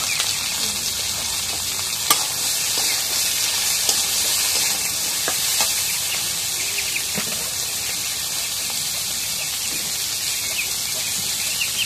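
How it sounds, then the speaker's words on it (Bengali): Chili and chopped vegetables frying in a pan, a steady close sizzle and hiss running throughout with a few sharp clicks and stirring knocks, no talking. "এখন মরিচ ভাজা এখন তরকারি কাটাগুলো দিয়ে দিই।"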